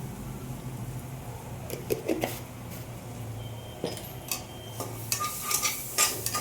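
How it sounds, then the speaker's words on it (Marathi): Matar paneer masala being sautéed with salt in a pan, with soft scattered clinks and scrapes of a spoon stirring against the cookware over a low steady background hum. "हे छान परतवून घ्यायचे."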